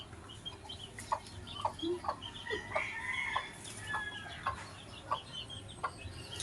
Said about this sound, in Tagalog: Uy, manok. Inahin mo kaingay.